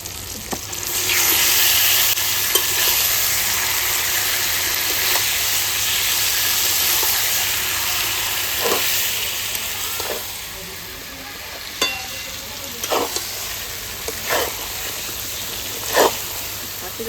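Chicken added to fried tomato and onion sizzles and fries in a pan, a steady hiss broken later by several sharp scraping stirs.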